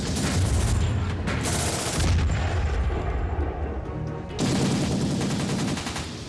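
Loud, sustained naval cannon gunfire from a reenactment of the Falklands War warship action involving HMS Coventry and HMS Broadsword, a dense roar of repeated blasts with a brief lull midway before another heavy burst.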